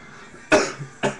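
Two sharp coughs from a young man, one near the middle and a second shorter one just after, loud and close over a quiet room with no talk.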